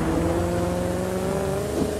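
A car engine in the racing video game The Crew holds a steady, loud drone with a slight rise in pitch, continuous throughout with no talk over it.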